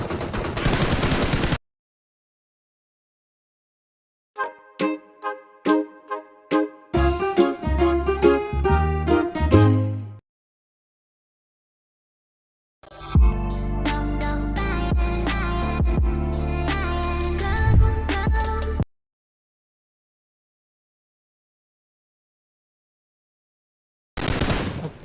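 Bursts of rapid automatic gunfire in a video game shooter, a short volley followed by a longer sustained stream of shots, loud and close, separated by silent gaps.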